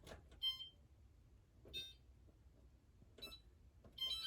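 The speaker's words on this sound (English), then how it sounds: "I'm going to set the timer for 10 minutes" Kitchen timer being set for ten minutes, giving short bright beep bursts at intervals: four separate clusters of electronic beeps, fairly quiet and alone over faint room noise.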